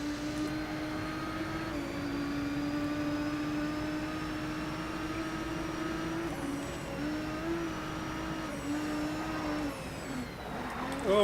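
A race car engine in the racing video game Grid 2 drones steadily at high revs, with brief throttle shifts and gear changes near the end; no talking.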